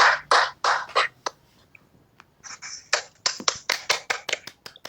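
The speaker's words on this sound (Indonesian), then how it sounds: "Tepuk tangan dulu dong." A few participants at an online academy session clap, with separate sharp claps in short bursts, a brief pause, then a faster run of distinct close claps, with no talking.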